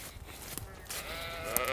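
Sheep bleat softly beside a dirt trail in open countryside: a thin, wavering cry rises out of a quiet outdoor background and holds faintly to the end, with no speech.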